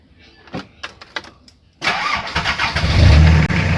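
A Toyota Liteace engine starting after its battery has been recharged: a few faint clicks and cranking attempts, then the engine catches and settles into a loud, steady idle close by.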